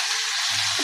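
Methi leaves frying with tomato in a pan, a continuous close sizzle with a soft low stir underneath, brief and without talk.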